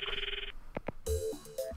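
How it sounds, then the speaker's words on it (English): A phone chimes with an incoming call in the Steins;Gate video game: a steady electronic tone, brief clicks, then a short melodic ringtone phrase, quiet and close. "Incoming call."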